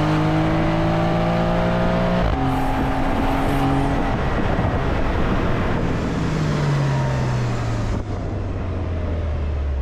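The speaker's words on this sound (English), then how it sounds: "At the core of this 911 is the famed Porsche twin turbo flat six engine, which is in the rear here." A 2023 Porsche 911 Carrera Cabriolet with a rear-mounted twin-turbo flat-six runs as a steady, loud engine drone. Its pitch climbs, then drops at gear changes, with no talking.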